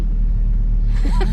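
A Porsche GT3 engine gives a deep, close, steady low rumble at idle, with a faint rising whine near the end.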